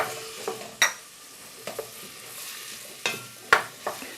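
Chilli goes into a pan of softening ingredients for a Portuguese fish stew, frying with a low sizzle while several sharp utensil scrapes and knocks against the pan ring out close by.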